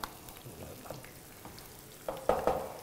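Onions frying in a pan give a soft, steady sizzle, with a few light stirring scrapes and clinks growing louder toward the end; no voices.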